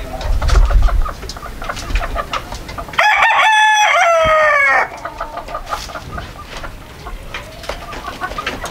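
A rooster crows loudly and close by, its call standing out for a couple of seconds on a fancy poultry farm in Pakistan, while chickens cluck and chatter around it throughout.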